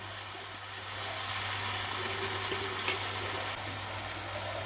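Minced mutton masala with Kashmiri chilli powder frying and being stirred in a pan, a steady close sizzle with a low hum underneath and faint scraping, no talk.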